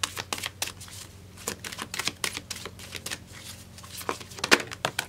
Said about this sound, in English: So here's the deck. I'm going to go ahead, shuffle it for you